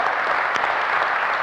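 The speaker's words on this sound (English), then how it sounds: "So give yourselves a round of applause for that" Dense, steady applause from a live in-person crowd at a talk, a continuous wash of clapping for a brief moment with no voices over it.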